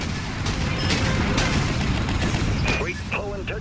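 Spaceship weapons fire in the game Dreadnought, a thick barrage of booming shots over a rumbling battle, with a voice speaking near the end.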